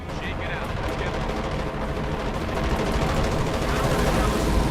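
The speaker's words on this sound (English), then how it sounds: "let's call a strafing run along there. Strafing run inbound" Company of Heroes 2: Ardennes Assault battle with an aircraft strafing run, dense sustained gunfire and explosions rumbling loudly throughout while a voice talks over the din.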